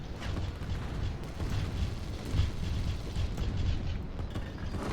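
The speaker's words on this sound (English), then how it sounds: "One large explosion, and then these units don't know what to do." A large structure blowing up in the real-time strategy game Line War, a sustained booming rumble of battle noise that swells briefly midway and stays dense and loud throughout, with no talking.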